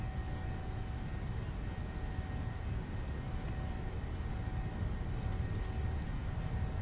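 Takeoff roll of a PMDG 737-800 in a flight simulator, heard as a steady, low broadband engine roar and rumble that stays even throughout with no voices.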